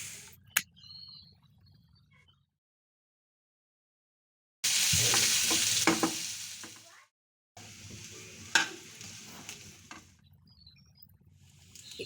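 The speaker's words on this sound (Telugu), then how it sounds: "ఇలా మధ్య మధ్యలో కలుపుతూ లైట్ గోల్డెన్ బ్రౌన్ కలర్ వచ్చేంత వరకు ఫ్రై చేస్తూ ఉండాలి." Cauliflower frying in oil crackles and hisses in a pan while being stirred, bursts of close sizzling broken by short silent gaps.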